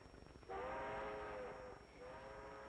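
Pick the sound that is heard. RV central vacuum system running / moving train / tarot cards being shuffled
moving train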